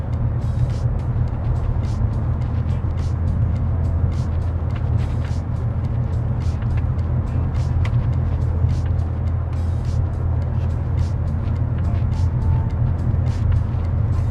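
Steady low engine and road rumble from inside a car driving through a Florida neighborhood, continuous and even throughout, with no one speaking.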